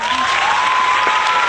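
A classroom audience claps for student presentations, dense, steady applause that fills the whole moment at close range with no pause.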